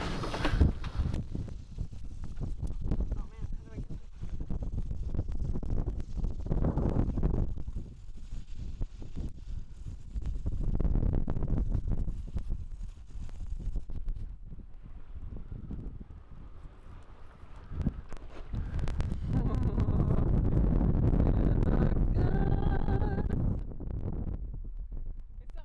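Wind buffets a boat at anchor in a secluded bay, a steady rushing roar with gusts that swell and ease across the whole stretch, with scattered knocks and handling noises and no clear talk.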